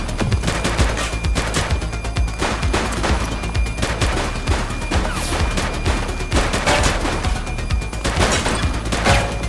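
A suspect opens fire during a shootout in The Precinct, with rapid, loud bursts of gunshots cracking continuously close by, overlapping into a sustained fusillade for the whole stretch.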